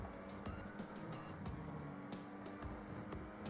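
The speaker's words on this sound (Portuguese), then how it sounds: "O som do motor é legal" The Specter sports car in GTA V drives with a faint, steady engine drone, broken by short sharp clicks and bumps. It sounds distant and quiet, with no speech.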